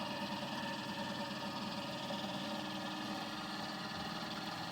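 A dual rotor flat disc motor generator with hall effect triggering spins at around 600 RPM, giving a steady, faint mechanical hum and whir with a constant low vibration and no voices.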